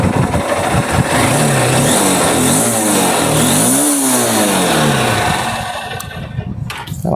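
A Honda Unicorn 160cc motorcycle engine revs up and down several times, rising and falling in pitch, close and loud, then settles toward idle near the end.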